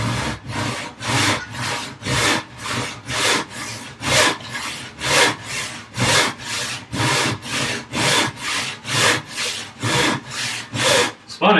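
A panel saw cuts through wood in steady back-and-forth strokes, about twenty even rasping passes close up and loud, each push rising and fading in a regular rhythm, with no voices over it.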